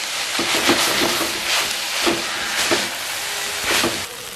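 Sliced onions frying in oil in a pan for Jaffna-style seeni sambal, a steady broadband sizzle with occasional soft bursts and stirring scrapes, close and moderately loud, without talk.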